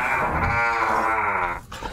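Dogs out on a walk growl together in a loud, sustained, throaty rumble with raspy snarling, close up and continuous for about two seconds before a brief break.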